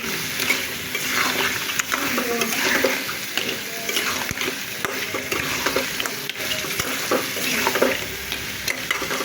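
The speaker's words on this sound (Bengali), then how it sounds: "এখন আমি কাঁকড়াগুলো দিয়ে দেবো।" Crab pieces fry and sizzle steadily in a pan, stirred now and then with soft scraping, continuous and fairly close with no talk.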